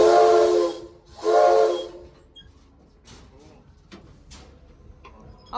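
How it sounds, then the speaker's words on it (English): A steam locomotive whistle at a train museum gives two loud, close blasts, each about a second long, followed by quieter clanks and a few people talking. "Mind if I pull the horn? It's a whistle."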